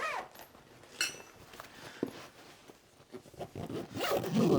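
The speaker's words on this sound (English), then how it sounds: "Close the big zipper." A suitcase zipper is pulled closed in several short, scratchy close-up strokes. A longer, louder run comes at the end.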